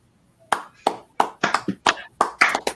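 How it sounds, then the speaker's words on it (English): A few podcast panelists clap in slow, separate, distinct hand claps, close and fairly loud, about eight claps over two seconds after a quiet start. "Panelists, welcome, and give yourselves a round of applause."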